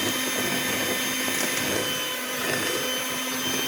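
An electric hand mixer beats steamed sponge cake batter at low speed, a steady continuous whirring motor hum held at an even level for the whole stretch, close by with no talking.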